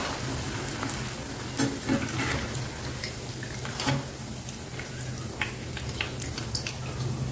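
Bellam kommulu, a jaggery snack, sizzle and crackle steadily in hot oil, with faint clinks and bubbling pops throughout and no talking.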